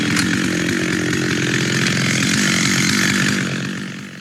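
A chainsaw cutting into a large triple-top cedar tree, its loud steady whine running continuously and close before easing off at the end.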